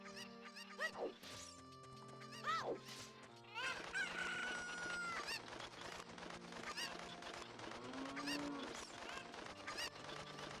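A video game chicken crows and clucks in loud, repeated calls, layered over busy game music and effects, with no one talking.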